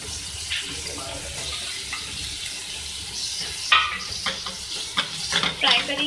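Chicken and bell pepper frying with garlic and salt in a pan, a continuous close sizzle with clinks and scrapes of stirring that get busier toward the end.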